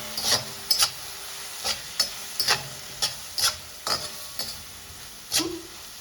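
A spoon stirs a nachni masala poha mixture with squeezed lemon in a pan, giving a series of sharp scraping clinks at an irregular rhythm over a soft background hiss, near and alone.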